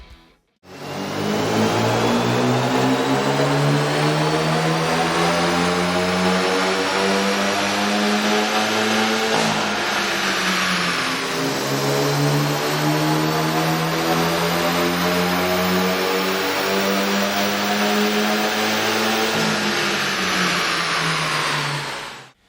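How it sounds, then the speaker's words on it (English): A Hyundai Veloster 1.6L turbo engine fitted with an aftermarket air intake runs on a dyno, a loud, steady drone climbing in pitch through two long pulls, with a brief dip in between. "we ran the vehicle on the dyno to test the sound comparison versus the stock intake"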